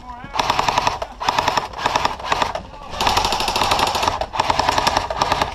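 Airsoft gun firing on full auto at an outdoor field, loud close rapid-fire bursts of sharp mechanical cracks, several strings of about a second each separated by brief pauses, with a voice faintly underneath.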